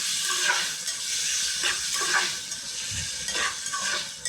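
Chopped tomatoes fry in a pan for a stuffed capsicum dish, with a steady sizzle broken by repeated scraping strokes of a spoon stirring, close up and with no talk.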